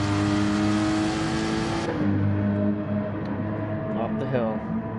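Race car engine under throttle, a loud sustained tone that holds then drops as the throttle eases, followed by a quieter rising rev near the end, with someone talking over it.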